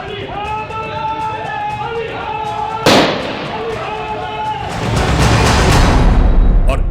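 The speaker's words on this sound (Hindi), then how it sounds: "कानून के एहलकारों को जवाबी फायरिंग का सिलसिला शुरू करना पड़ा।" A single sharp bang cuts through someone talking, followed by a dense burst of crackling pops like rapid gunfire, an exchange between police and criminals in Karachi.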